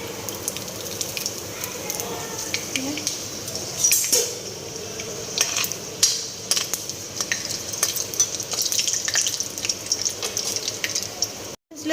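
Spices and bay leaves frying in hot oil in a wok (kerahi), with quiet sizzling, metal utensil clinks and stirring scrapes at moderate distance throughout.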